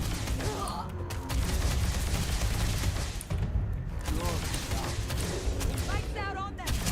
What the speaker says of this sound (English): it's like a knockout gun